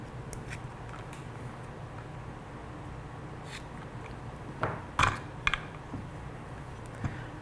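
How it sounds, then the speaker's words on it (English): Scissors snip through rubber slingshot tubing in a quiet room, a few short, sharp cuts clustered midway through, with faint handling noise around them. "All right, so I'll go ahead and cut it off there."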